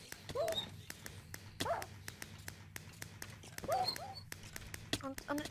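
Dogs barking and yipping during a castle siege minigame, a few short barks and whimpers scattered among rapid clicking and hoofbeat-like clatter, while someone talks over them.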